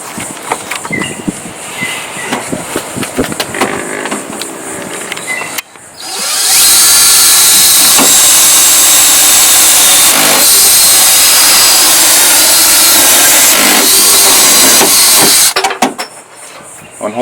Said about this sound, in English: Hole saw, great for cutting holes in sheet metal.